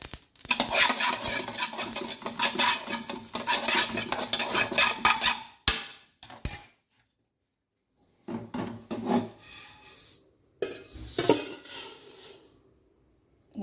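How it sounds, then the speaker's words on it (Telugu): Dry cumin and fenugreek seeds rattle and scrape as they are stirred and roasted in a pan, in loud bursts separated by brief silences. "జీలకర్ర కొంచెం వేగాక ఇప్పుడు మెంతులు వేసుకోవాలి."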